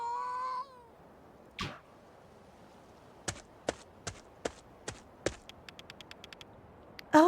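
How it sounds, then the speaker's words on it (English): In the video game A Space for the Unbound a scared cat gives one short meow at the start, then a run of soft evenly spaced taps and clicks follows through quiet game ambience. "Oh, the cat still looks very scared."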